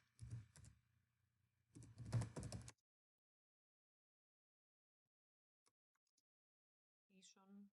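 Typing on a computer keyboard while building a Google Slides presentation: two bursts of quick, close key clicks, then near silence and a brief bit of talk at the end.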